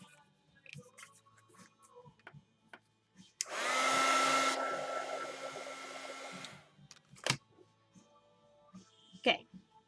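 A hair dryer runs steadily for about three seconds to dry a wet watercolor painting of strawberries, a loud even whir that starts and stops abruptly amid quiet room sounds.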